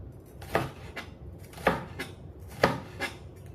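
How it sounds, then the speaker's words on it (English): A knife slicing through cabbage onto a cutting board: four crisp thuds at an uneven pace, each with a short crunchy tail, close and fairly loud over a quiet room, no talking. "So we're going to slice this"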